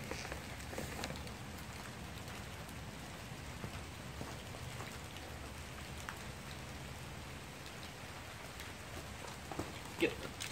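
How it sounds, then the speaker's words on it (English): Light rain falls outdoors in a steady, soft patter across open ground, a continuous gentle hiss with no voices over it. "It is raining a little bit"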